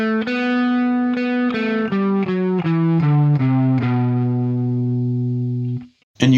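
Electric guitar with distortion and chorus effects plays a Phrygian mode first octave in G, a series of separate sustained picked notes stepping through the scale, loud and close with no talking.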